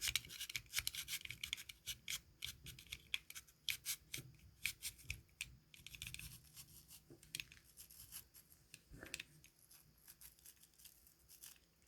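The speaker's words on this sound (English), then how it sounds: "I've got my box knife" A box knife slices slowly through a yarn pom-pom, giving faint, close, irregular scratchy cuts and rubbing fibre snaps spread over a quiet background.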